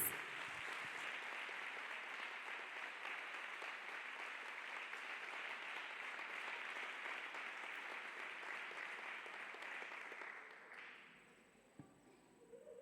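Church congregation applauding for Jesus after a testimony of an overseas job, a dense steady roar of clapping that fills most of the stretch before thinning and fading near the end.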